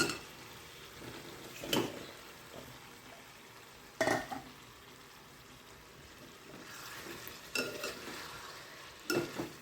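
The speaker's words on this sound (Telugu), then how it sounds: "ఇప్పుడు ఉడికించి పెట్టుకున్న కాలీఫ్లవర్ అయితే వేస్తున్నాను." Cooked cauliflower tipped into a pan of softened tomato and onion curry base and stirred, giving a few sharp spoon scrapes and clatters at intervals over a soft, steady sizzle.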